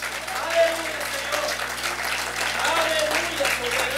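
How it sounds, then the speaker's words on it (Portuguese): Sustained applause from a church congregation in a reverberant hall, steady and moderately loud throughout. "Você pode aplaudir Jesus?"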